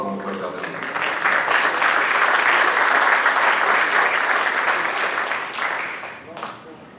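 Strong, sustained applause from a conference audience welcoming an architect to the stage, swelling quickly, holding steady for several seconds, then tapering off.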